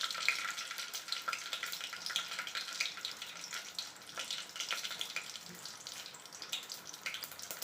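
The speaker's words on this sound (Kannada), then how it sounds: "ಒಂದು ಟೀ ಸ್ಪೂನ್ನಷ್ಟು ಸಾಸಿವೆ ಕಾಳನ್ನು ನಾನು ಇದಕ್ಕೆ ಹಾಕಿದೆ." A teaspoon of mustard seeds frying in hot oil in a pan, giving a steady, fairly quiet crackling sizzle with scattered pops throughout and no talking.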